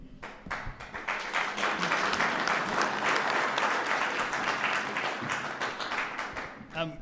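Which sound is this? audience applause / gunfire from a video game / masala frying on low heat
audience applause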